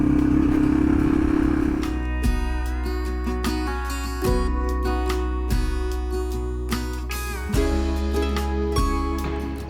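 A Yamaha TW200 motorcycle riding off-road on rough backroads, its mid-pitched engine droning loudly and steadily up close, rising and falling with throttle, while frequent clattering knocks and rattles from the bumpy terrain punctuate the run.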